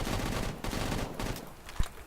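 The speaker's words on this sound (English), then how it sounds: "the recoil is really not that bad in full auto mode" Rapid full-auto bursts of game gunfire rattle from an FN FAL-style rifle, dense and continuous for about a second and a half before breaking off, with a sharp final shot; no talking.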